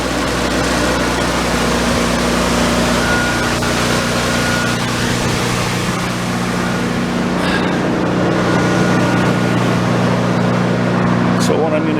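A generator runs nearby with a steady low mechanical hum and engine drone, continuous and fairly loud while someone talks over it.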